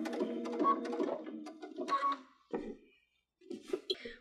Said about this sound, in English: So if you watch, I'll sew just a few stitches and then adjust